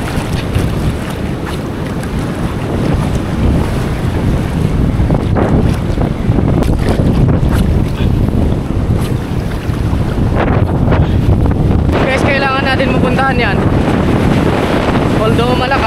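Strong Amihan wind roars continuously across an open sea, buffeting the microphone loudly, with waves and a boat's motion underneath and a voice briefly audible.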